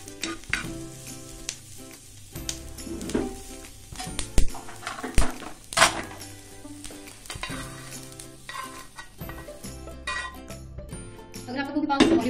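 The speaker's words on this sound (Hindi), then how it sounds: "हमारा चिकन एक साइड पे रेडी हो रहा है और दूसरी साइड पे हम सब्जियां फ्राई कर रहे हैं" Chicken and vegetables, including capsicum, fry in a pan with steady close sizzling, broken by repeated stirring scrapes and occasional utensil clinks. A voice talks over the cooking.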